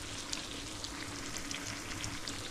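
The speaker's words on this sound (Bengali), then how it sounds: "এই তো আমার চাল কুমড়োটাকে এভাবে আমি তেলের মধ্যে দিয়ে দিলাম।" Ash gourd pieces fry in hot oil for a curry, giving a steady, close, dense sizzle that holds level throughout with no voices.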